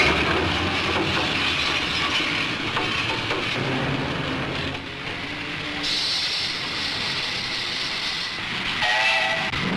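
An iron ore freight train rumbles steadily with hissing and rattling, and a whistle sounds briefly near the end; no voices.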